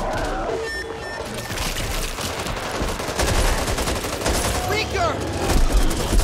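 Heavy gunfire in the zombie shooter game Back 4 Blood, with rapid automatic bursts and continuous shots, loud and dense, along with shouting voices and game effects.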